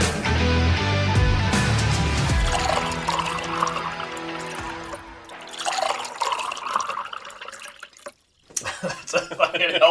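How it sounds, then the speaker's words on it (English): A drink being poured generously into a glass, with a sustained liquid trickle and fill sound over the first few seconds, followed by fainter clinks and rustling; people talk nearby. "That's a fucking healthy pour."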